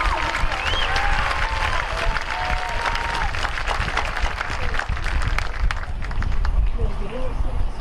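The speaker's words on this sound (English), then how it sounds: "Let's have a round of applause for our third row graduates." Sustained crowd applause fills a high school graduation ceremony as a row of graduates is honored, a dense steady wash of clapping with some cheers and voices mixed in throughout.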